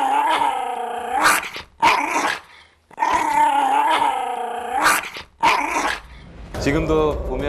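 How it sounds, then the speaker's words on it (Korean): Several bursts of low, rumbling growls from dogs at close range, broken by short pauses, with a rough, throaty, vocal quality. "강아지들 으르렁거리는 소리"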